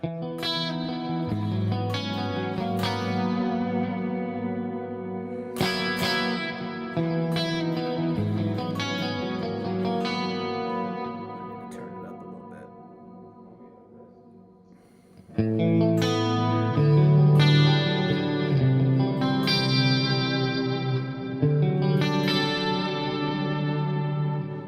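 An electric guitar plays strummed chords and ringing single notes through a Soldano clean amp capture, washed in reverb, pausing briefly before a louder passage.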